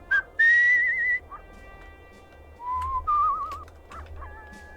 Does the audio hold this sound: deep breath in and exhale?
no